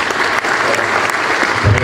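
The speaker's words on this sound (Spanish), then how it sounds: "solicito a la audiencia un voto de aplauso para esta mesa número 5" An audience at a formal panel session gives loud, sustained applause, many hands clapping together in a dense, even burst that fills the hall close and strong.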